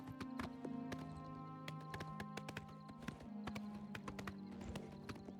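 Steady clip-clopping of horse hooves in the game Oblivion, a quick regular rhythm over a looping musical drone, close and fairly loud.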